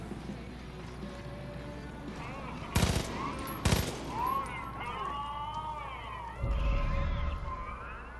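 Gunfire in the Far Cry 5 video game, two sharp loud shots close together early on, with in-game music and ambient noise continuing underneath.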